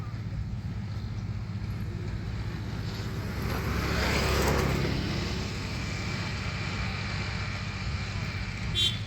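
A John Deere tractor passes head-on on a rural farm road, a low steady engine drone that swells toward the middle and fades again, with a broadband rush over the top.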